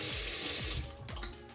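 A DLC razor being rinsed under a running tap gives a steady rush of water for most of a second, then the flow thins into softer, patchier splashing.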